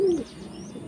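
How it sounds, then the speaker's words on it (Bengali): A male high flying Madrasi pigeon coos once in a loft, a short, close, soft call that fades into quiet room tone. "এটা নর পায়রা।"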